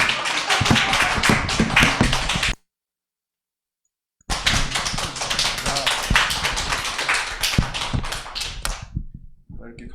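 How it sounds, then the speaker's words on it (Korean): A church congregation claps together in welcome as a pastor comes forward, dense rapid applause filling the room in two long bursts separated by a silent break of roughly two seconds, the clapping tapering off near the end. "목사님 나오실 때 우리 박수로 우리 반갑다는 인사 한번 하시겠습니다"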